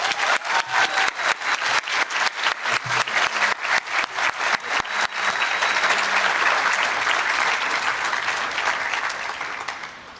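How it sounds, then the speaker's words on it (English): Graduation ceremony audience breaks into sustained applause, starting as rhythmic clapping that swells into dense, loud, continuous clapping from the crowd before gradually tapering off. "I think we all owe a big round of applause."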